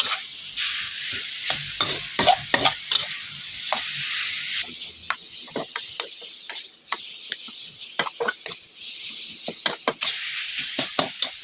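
Minced pork for a spicy dried-chili basil stir-fry sizzles in a wok under constant hissing, with repeated scraping clacks of a spatula in an uneven stirring rhythm, close and loud, without talk.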